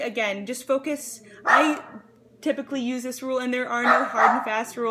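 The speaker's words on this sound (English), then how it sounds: "Sorry about the dog." A dog barks briefly from the background while a person talks steadily over it, the barks partly masked by the speech.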